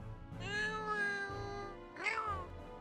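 Two drawn-out meows from a Palico cat in the video game Monster Hunter 4 Ultimate, the first long and wavering, the second shorter and rising, both soft and heard alone.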